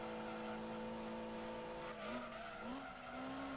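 In a racing video game, a Honda Civic on the Trial Mountain circuit slides through a corner, giving a steady, prominent tyre squeal over the engine note that bends in pitch near the end.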